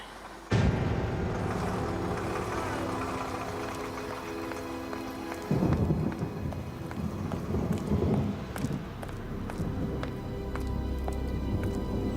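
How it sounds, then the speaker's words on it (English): Steady rain pours down, with low rumbles swelling in twice like distant thunder, a continuous wet wash filling the background. "Still raining."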